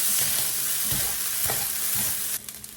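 Eggs sizzling in a pan of breakfast fried rice, a steady close crackle with a few soft scraping strokes, and the sizzle drops away sharply near the end.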